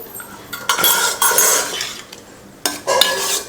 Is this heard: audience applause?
no